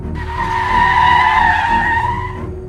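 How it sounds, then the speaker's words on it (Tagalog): A jeep's tires skid and squeal loudly and steadily for about two and a half seconds as it slides to a stop on a road, close up with no voices. "Nang tuluyang huminto ang jeep"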